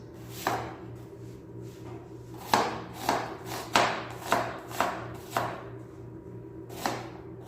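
An onion is chopped on a board as tilapia stuffing is prepared, with about eight or nine sharp, close knife knocks, several in a quick run, over a low steady hum, no talk.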